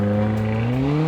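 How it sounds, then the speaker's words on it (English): A Mercedes-Benz GLA45 AMG on its standard exhaust holds a loud, steady engine note with rising pitch, close by and with no talk. "Here is the GLA45 on a standard exhaust."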